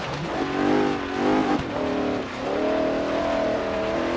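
A 1972 Mercedes-Benz 300 SEL engine in the Forza Horizon 3 racing game revs and drops steadily in loud, continuous waves, with a brief tire squeal partway through and no voices.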